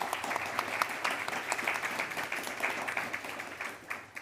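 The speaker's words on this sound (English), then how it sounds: "Let's give them a round of applause." Applause for two speakers at an evening student gathering, a moderate room full of clapping hands that holds steady, then begins to thin toward the end.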